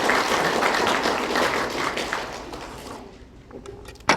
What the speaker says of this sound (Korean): 동의하시면 박수 한번 쳐보세요.